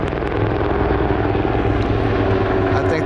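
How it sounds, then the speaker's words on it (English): A helicopter working a nearby wildfire passes overhead with a loud, continuous rotor and engine drone that holds steady throughout. "This helicopter's coming from there too."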